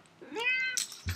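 A single close cat meow rising and falling over about half a second, followed by a brief soft rustle and thump in an otherwise quiet room.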